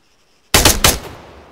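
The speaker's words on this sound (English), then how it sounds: "When you're ready, put some rounds down range." A rifle in the military game Arma 3 fires a quick burst of rounds downrange, loud sharp reports starting abruptly after a brief quiet and trailing off into echo.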